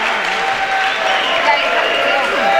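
A basketball crowd at a men's college game between StMU and St. Edward's cheers after a foul and a made basket: steady, loud crowd noise and applause that holds throughout, with a few whistle-like tones on top.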